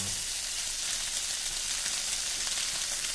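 A steady, dense crackle of an Alaskan halibut fillet searing presentation side down in hot oil in a saute pan, continuous and close with no talking.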